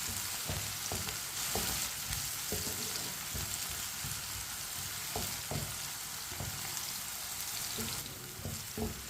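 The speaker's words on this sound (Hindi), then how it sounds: "टमाटर और सब्ज मिर्च को मैंने 2 मिनट के लिए चम्मच चलाते हुए पका लिया है" Tomatoes and green chillies cooking in a pan on the stove, a soft continuous sizzle with regular scraping taps as a spoon stirs them, fairly quiet and with no talking.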